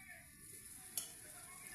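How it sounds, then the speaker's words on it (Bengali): Pakoras frying in oil, a faint, soft sizzle with a single brief click partway through. "পকোড়িগুলো ভেজে নিচ্ছি ভালো করে, 2 সাইড লাল লাল করে ভাজবো।"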